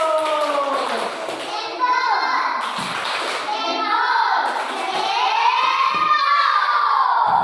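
A classroom of Indonesian schoolchildren claps and chants together in applause, loud and close, with their high voices rising and falling over steady clapping throughout.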